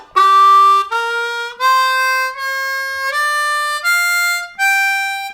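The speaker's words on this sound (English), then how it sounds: "starts on the 2 draw and goes up to the 6 blow and sounds like this" Harmonica played slowly up the blues scale from the 2 draw to the 6 blow, seven clear sustained notes stepping upward in pitch, each with a brief gap between, solo and close with no voice.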